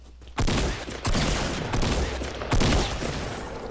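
Gunfire in the video game Fortnite comes as several loud, sharp bursts in close succession, each followed by a short ringing decay, with a brief quiet lead-in before the first shot.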